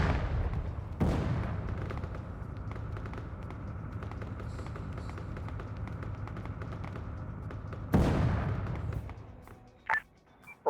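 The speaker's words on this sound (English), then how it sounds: "This tank drove back. They are exchanging rounds." Tank gunfire in a video game battle: two sharp, loud cannon blasts several seconds apart, each ringing out over a steady low rumble of engines and distant crackling fire.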